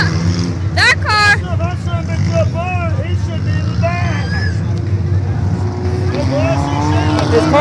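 Damaged race car engine running rough at a speedway during a heat race, a loud, uneven drone close by with people talking and shouting over it.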